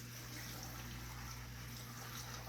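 Water poured from a container into jars, a steady continuous trickling and splashing close by over a low steady hum, with no talking.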